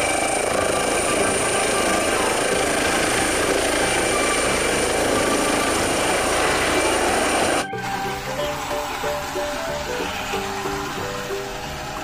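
Helicopter rotor and engine noise, a loud steady broadband drone that cuts off abruptly partway through, giving way to quieter mechanical sounds.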